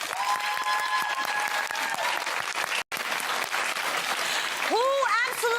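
Studio audience on a daytime talk show breaking into loud, dense applause that fills the whole stretch, with brief cheers and whoops rising near the end.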